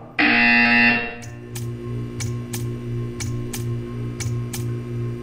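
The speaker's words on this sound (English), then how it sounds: "When you hear the buzzer, stare at the art." An electronic buzzer in the video game Portal 2 blares loudly for about a second, then stops, followed by a steady low hum with faint, evenly spaced ticks.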